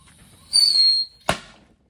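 A mercon tikus firecracker lit inside a telolet bus horn gives a shrill whistling squeal for about half a second, then a single sharp bang with a short decay.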